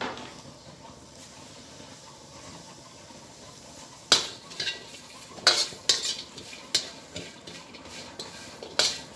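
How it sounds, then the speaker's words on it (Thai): Sizzling and scraping in a hot pan as ingredients are dry-roasted over raised heat, with a steady low hiss and sharp intermittent clinks of a utensil stirring, growing busier in the second half. "คั่วให้หอมทั้งหมดเลยนะครับ เร่งไฟนะครับ คั่วให้หอมนะครับผม"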